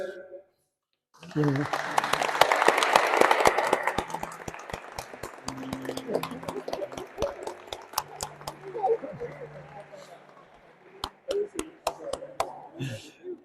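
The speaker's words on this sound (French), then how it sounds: "applaudissons notre frère Samuel" A church congregation claps at a baptism service, starting after a brief pause with a swell of scattered hand claps, then thinning out and picking up again near the end, with voices mixed in.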